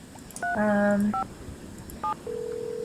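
Telephone keypad tones in a Nancy Drew computer game, Treasure in the Royal Tower: a few short dialing beeps, one longer tone, then a steady ringback tone, clear and alone.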